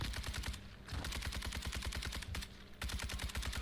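Rapid automatic gunfire in Call of Duty, dense bursts of evenly spaced shots broken by two brief pauses, loud and close with no talk over it.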